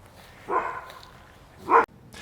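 Two short dog barks, roughly a second apart, rising out of a quiet background at moderate distance.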